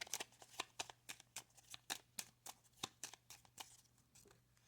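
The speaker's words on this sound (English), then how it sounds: "Let's grab some cards here from the Piatnik deck." Tarot cards from a Piatnik deck being shuffled, a steady run of crisp riffling slaps repeating about every quarter second, close and fairly quiet, with no voices.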